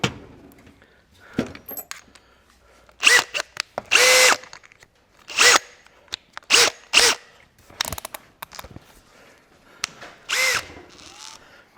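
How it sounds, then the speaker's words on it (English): A Makita power drill runs a tap through the holes of a Massey Ferguson 65 tractor gearbox housing, heard as a series of short, fairly close whirring bursts separated by pauses, with no talk. "Often use the drill. Just run them through with the Makita."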